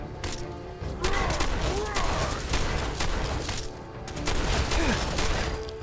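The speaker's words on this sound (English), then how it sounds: "Not sure what he's shooting me with." Enemy gunfire in Fallout 4 in a dense, continuous fusillade of rapid shots and impacts, loud and close throughout the combat, with someone talking over it.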